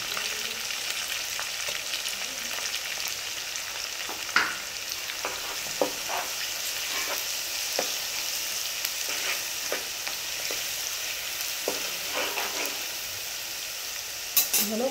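Food fries with ginger paste in a pan for a mutton dish, a steady close sizzle broken by intermittent scraping and clinking as a spoon stirs the mixture.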